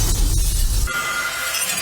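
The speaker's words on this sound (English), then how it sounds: "He turned that glass into powder" Glass shatters in a scene from Harry Potter and the Order of the Phoenix, a sudden bright breaking crash over a low rumbling film soundtrack.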